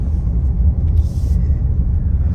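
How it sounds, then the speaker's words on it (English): Exhaust brake on a RAM 2500 diesel truck, heard as a steady, deep low rumble that continues throughout the clip with no talk over it. "Love the exhaust brake."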